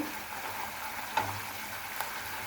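Small puti fish fry in mustard in a pan, a steady soft sizzle with a couple of brief clinks and scrapes as the pieces are turned. No one speaks.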